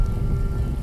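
Heavy rain falls as a steady, dense hiss with a low rumble under it, loud and continuous, and no voices.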